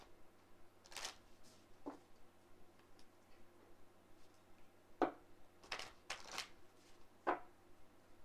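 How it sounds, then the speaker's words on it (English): Quiet, crisp riffling of tarot cards being shuffled in a few short bursts, close by, with soft ticks and taps between them. "We're just gonna shuffle them and take the one from the top."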